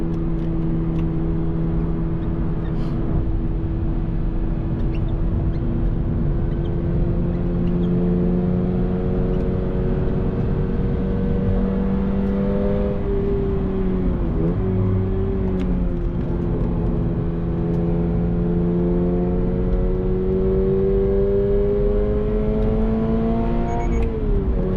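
A second-generation Subaru BRZ in stock form, without an oil cooler, drives a race track, its engine droning steadily from inside the cabin with pitch rising and falling through gear changes and throttle lifts.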